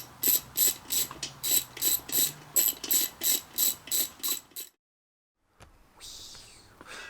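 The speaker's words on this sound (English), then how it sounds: "So I'm going to get a torque wrench." Rapid, even ratcheting clicks from a torque wrench on RB25DET intake manifold bolts, about a dozen close strokes, then silence and a brief rustle.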